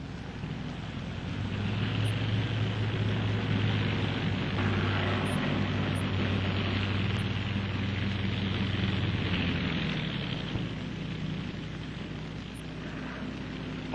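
A TBM air tanker, a propeller aircraft on a firefighting mission, drones steadily overhead with a low, sustained engine hum that swells and then fades, with wind noise buffeting the microphone and no voices.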